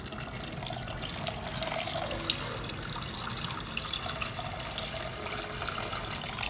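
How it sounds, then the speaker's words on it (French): Water runs steadily into a cooking pot of cassava leaves with peanut and fish, a continuous close splashing rush across the whole stretch with no speech. "Alors, je rajoute un peu d'eau."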